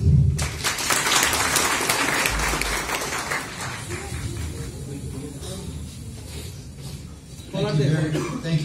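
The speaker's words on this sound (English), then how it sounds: "Let's give a huge round of applause for him." Audience applause for a guest speaker at a college special lecture, clapping that fills the room at the start and then fades, with voices and room noise underneath before a louder burst near the end.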